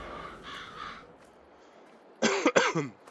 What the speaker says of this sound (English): sorry I keep coughing in your guys' ears